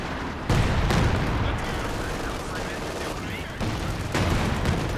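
A creeping artillery barrage in Company of Heroes 2, a dense run of booming impacts and crackling fire that stays loud throughout, with sharper hits near the start and end, under a commentator's voice.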